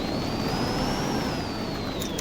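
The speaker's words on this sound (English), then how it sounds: "I can actually hear the motor on this car" A car motor running in a video game, a steady broadband engine drone with a thin whine that rises and falls slightly, continuous and fairly loud with no talking.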